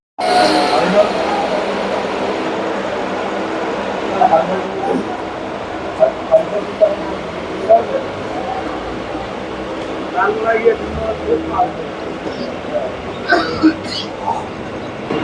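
A commuter train pulling out of Ranaghat station on the Ranaghat to Gede line, heard from inside as a steady loud rumble and rattle with occasional clanks, while people talk throughout.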